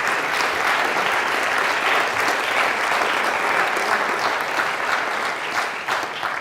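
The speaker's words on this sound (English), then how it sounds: "will you give them a round of applause?" An audience at a food science lecture applauds the IFST team with loud, steady clapping that continues for several seconds before beginning to thin out.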